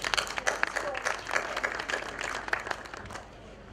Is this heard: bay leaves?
no